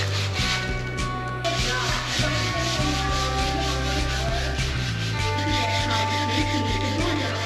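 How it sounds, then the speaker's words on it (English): Hand sanding of a boat part ahead of painting: steady, continuous rubbing strokes of abrasive paper, close and fairly loud, running throughout with a low steady hum beneath. "So I'm sanding every inch of this so I can get paint on every inch of it."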